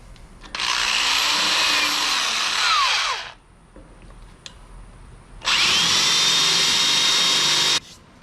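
A power drill bores a hole in the metal body of a BBQ smoker to fit a temperature gauge, running in two loud whining bursts of a few seconds each, separated by a short quiet pause.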